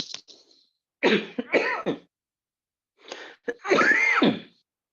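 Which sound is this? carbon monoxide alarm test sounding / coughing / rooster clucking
coughing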